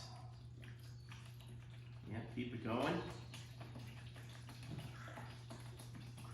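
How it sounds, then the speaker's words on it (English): Water is poured into a Tupperware container, a brief splashing burst in the middle of a room with a steady hum, while people talk throughout. "go ahead and take that water and pour some into this Tupperware here"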